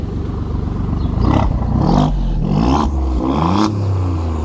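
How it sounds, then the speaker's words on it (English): An Alfa Romeo Giulia Quadrifoglio Nürburgring edition sports sedan revs hard up close in racing mode, the open exhaust roaring and popping through several rising bursts before settling into a rumbling idle. "oh, I hear the exhaust open."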